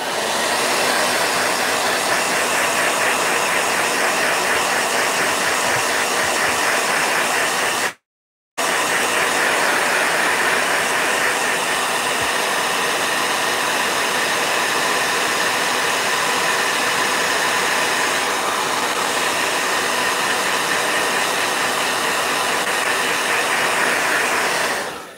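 A blow dryer runs loud and steady at close range, a constant rushing whir that drops out for a moment and then resumes unchanged until the end.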